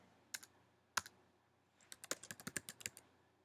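Scattered keystrokes on a computer keyboard, starting as a few isolated clicks and then a quick run of crisp taps close to the microphone, over near silence.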